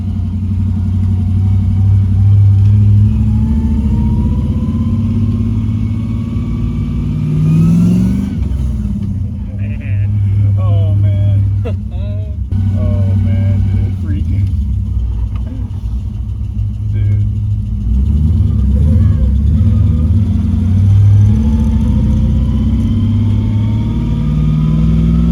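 An LS V8 in a swapped Mazda RX8 drives along with a loud, close cabin rumble, rising through gears, easing off midway, then pulling hard again, while occupants talk over the engine.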